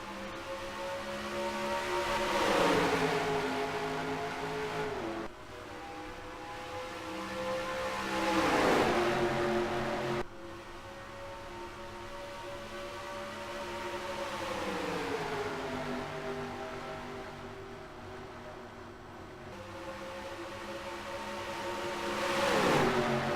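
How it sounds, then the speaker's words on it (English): Race cars screaming around Chicagoland Speedway in Illinois during a green-flag race, engines rising and falling in pitch as cars pass in repeated waves, loud and continuous without talk. "We're green flag racing here in Illinois."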